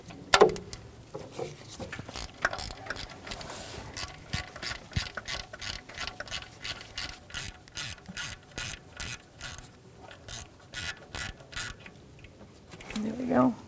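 A deep 10mm socket on a ratchet works loose a heat shield bolt on a Jeep Patriot, giving a long run of quick, evenly spaced ratchet clicks up close, with a few brief bumps and rustles at either end.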